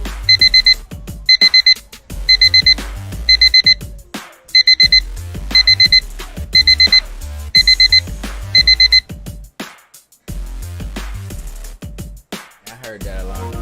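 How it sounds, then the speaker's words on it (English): A digital alarm clock beeps in repeated bursts of four quick tones, about ten rapid groups in a steady rhythm, loud and close over in-game music and thumping bass from Saints Row at midnight. "I heard that alarm."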